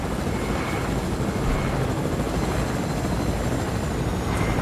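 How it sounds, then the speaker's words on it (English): Constant helicopter rotor noise in the video game Fortnite, a dense chopping drone that stays loud and steady throughout, with no talking. "I see a helicopter."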